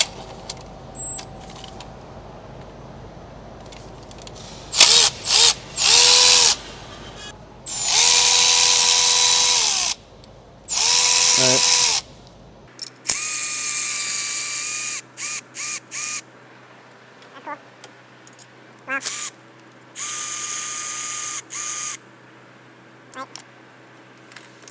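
Ratchet working 10 mm bolts loose on a Ford 6.0 diesel engine, heard as a series of buzzy ratcheting bursts of varying length with short clicks and pauses between, fairly close and without talk.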